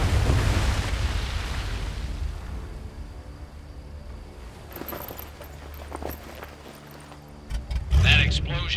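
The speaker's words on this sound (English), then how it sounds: "That explosion got the attention of all the German patrols in the area." A deep explosion in the WWII VR game Medal of Honor Above and Beyond, a heavy low rumble that fades, followed by a second loud boom near the end, with voices speaking in between.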